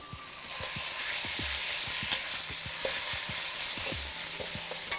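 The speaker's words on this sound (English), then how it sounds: "Let's cook this marinated meat really fast," Marinated beef flash-frying in a hot wok gives a steady, loud sizzle broken by regular clanks and scrapes of stirring, heard close with no talking.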